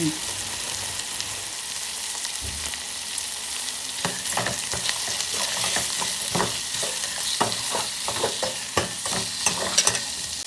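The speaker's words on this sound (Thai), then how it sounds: "ผัดเนื้อให้สุกประมาณหนึ่ง ใส่เครื่องเข้าบกเนื้อ แล้วผัดทุกอย่างให้เข้ากัน" Beef tenderloin stir-fried with curry paste in a hot pan, a continuous sizzle broken by scraping spatula strokes that grow busier and more rapid toward the end, close up with no voices.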